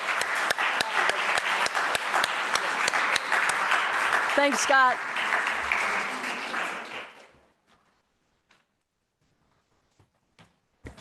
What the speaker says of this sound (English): I think we should give David a round of applause